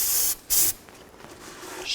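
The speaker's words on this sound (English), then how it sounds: "Now I'm going to use a little brake parts cleaner and just wipe this down." Aerosol brake parts cleaner sprays onto an axle housing gasket surface during rear axle seal work on a 2000-06 Chevy Tahoe: two short, close, sharp hissing bursts, then a fainter third spurt.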